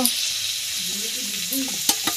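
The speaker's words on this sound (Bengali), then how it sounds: "পেঁয়াজ এখন ভাজা চলছে।" Onions sizzle in a pan at home, a short, steady fry with a couple of sharp utensil clinks near the end.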